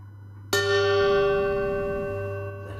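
A ritual bell at a Buddhist teaching gives a single bright clear strike, then its long ringing tone fades slowly over a low steady hum, with no speech.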